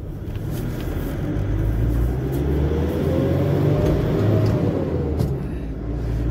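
Heavy trucks pull out of a lot in Saudi Arabia, setting off on duty, giving a loud, steady engine rumble with one engine's pitch rising and falling as it moves past, and no talk.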